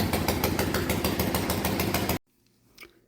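A vintage NSU 251 OSL motorcycle engine idles with a rapid, steady chugging rhythm, loud and close, then cuts off abruptly into near silence.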